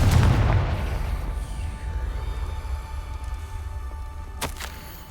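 A Confringo fire spell in Hogwarts Legacy: a heavy, close booming blast at the start that fades into a lingering rumble, followed later by a brief sharp crackle.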